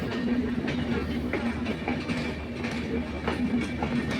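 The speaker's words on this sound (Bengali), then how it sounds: "এই দেখতে পাচ্ছেন আস্তে আস্তে ট্রেনটি চলে যাচ্ছে" A passenger train rolls slowly through Poradah junction railway station, its wheels clacking steadily over rail joints with repeated sharp clicks and a constant low rumble, near and loud throughout.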